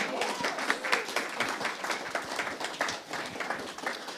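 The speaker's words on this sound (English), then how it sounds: "Let's do another round of applause." Audience applause for a band at a church celebration service, a steady dense wash of clapping that lasts the whole stretch at moderate volume with no voices over it.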